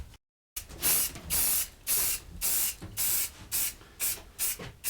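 Sanding sealer is sprayed onto a wooden sign in a series of short, evenly spaced hissing bursts, close and loud, with brief pauses between them after a moment of silence at the start.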